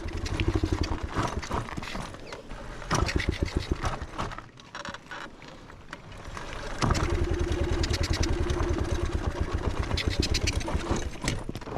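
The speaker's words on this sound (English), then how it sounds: "she starts, but she's not getting throttle. Oh, I think that's throttle. But she's not. She's chugging, cause it'll start. I can hear it start." A dirt bike's engine, not taking throttle, chugs close by in a rapid, uneven pulsing that falters and dips midway, then picks back up into a louder, steadier sputter.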